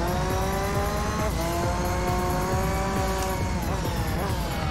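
Honda NSX race cars in Gran Turismo 3, engines droning at a steady high pitch with shifting tones as several cars pass in sequence, loud and continuous with no talk.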